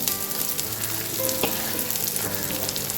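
Sliced onion hits a hot oiled pan and fries with a steady, close hiss, broken by a brief metallic clink of stirring.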